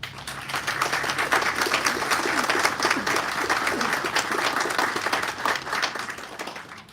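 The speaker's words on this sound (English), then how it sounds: "please join me in a round of applause as we welcome him to the podium" An audience at a college Veterans Day ceremony gives a round of applause, sustained dense clapping rising and then tapering off near the end.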